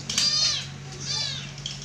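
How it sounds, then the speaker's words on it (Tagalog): A cat at a house meows twice in quick succession, fairly near, over a low steady hum and faint background noise. "Nag-meow meow yung pusa dito."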